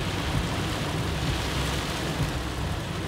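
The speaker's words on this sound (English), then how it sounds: "Hear the thunder?" Heavy rain pours steadily during a South Florida thunderstorm, a dense broadband hiss with low rumbling underneath, continuous and fairly loud with no distinct thunder crack standing out.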